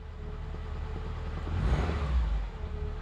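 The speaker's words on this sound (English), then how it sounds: "she revs lovely and clean" A restored car engine idles with a low steady rumble, then is revved once to a rising roar and settles back down, heard close by with no talk.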